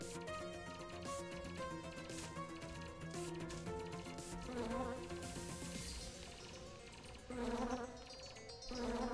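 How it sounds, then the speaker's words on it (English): Continuous electronic buzzing of swarming bees in the comic-book bullet-hell shoot-'em-up AlienCruise, layered with game music and effects that swell louder near the end. "Get all these bees out of here."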